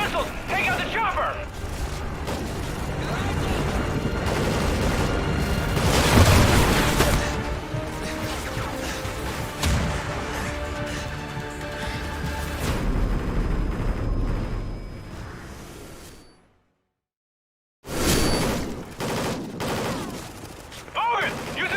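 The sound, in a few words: guided missile explosions and gunfire in a video game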